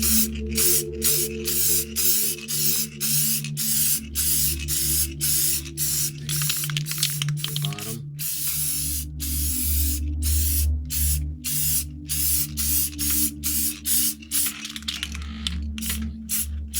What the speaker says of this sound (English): I want to give these a good spray